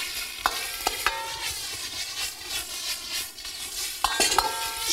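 Stir-frying in a wok over high heat, with a steady close sizzle, a droning hum in the background and clanks of the spatula against the metal.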